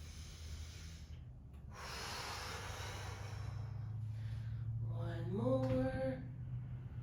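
Breathing in and out during a yoga exercise: a long steady airy exhale, a brief pause, then a second rising breath ending in a nasal, snort-like tone, close and moderately loud with no talk.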